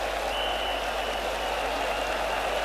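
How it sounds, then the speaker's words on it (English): Spectators at a 1990 West Indies versus England cricket ground applaud the end of an innings, with steady, continuous clapping over a dull broadcast hum. "He'll get a big cheer off this ground"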